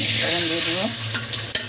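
Hilsa fish pieces coated with a little turmeric fry in hot oil in a pan, a loud steady sizzle with bubbling crackle and a sharp spatter near the end, no talk.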